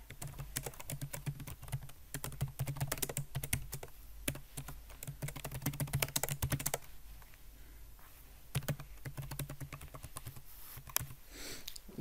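Rapid, continuous typing on a computer keyboard, close and crisp clicks in dense bursts with short pauses, no voices.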